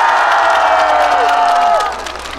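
An audience at an outdoor Incheon Gyeyang district day concert applauds and cheers, with a sustained tonal sound over the clapping that fades toward the end.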